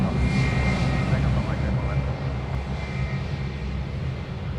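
A Dash 8 turboprop airliner at Sydney Airport sends out a broad, steady engine roar from a distance that slowly eases in loudness, heard without talk.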